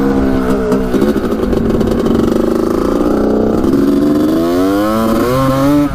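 A 1985 Honda CR250 two-stroke dirt bike engine runs loud and close, revving up and down steadily throughout with a rasping, buzzy tone and no talk over it.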